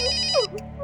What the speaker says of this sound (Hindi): अरे सही मौके पे फोन आया जी आपका